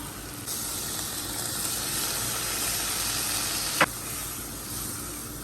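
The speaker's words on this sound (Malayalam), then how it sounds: "അപ്പോൾ ഇനി ഇതിലേക്ക് നമുക്ക് ഒരു കപ്പ് വെള്ളം ഒഴിച്ചു കൊടുക്കാം" A cup of water poured into hot crab curry masala for a coconut milk crab curry sets off a sudden, steady loud sizzling hiss that holds for several seconds, with one sharp clink near the end.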